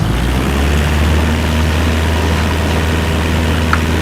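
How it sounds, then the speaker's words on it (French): Cessna propeller engine in Microsoft Flight Simulator 2024 holding a steady, loud low drone with a throbbing hum, continuous and alone, with no voices. "Le moteur, on met la puissance."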